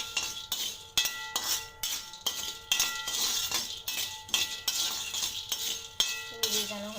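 A metal spoon stirring seeds as they roast in a pan, repeated scraping clinks and knocks in an uneven rhythm, close and fairly loud, with faint talking in the background.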